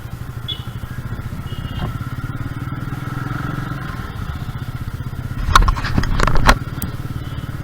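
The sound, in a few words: Royal Enfield Meteor 350 motorcycle engine riding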